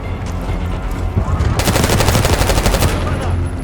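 Rapid automatic gunfire in Call of Duty Black Ops 6, a sustained loud burst of machine-gun shots starting partway through over dense battle noise, with an airport terminal setting.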